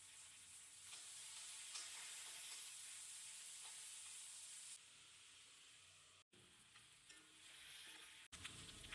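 Chopped onions sizzle in hot oil in a pan while being stirred, a loud continuous frying hiss with brief cuts near the end.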